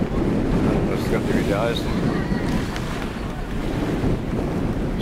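Strong seaside wind buffets the microphone with a constant loud rumble beside the ocean in the Cayman Islands, while a person talks over it.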